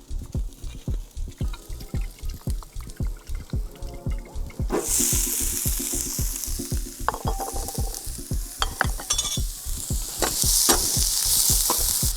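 Beef sizzles loudly and steadily in a hot paella pan over an asado fire, with repeated stirring scrapes at a regular pace, and the frying hiss swells sharply partway through and stays strong.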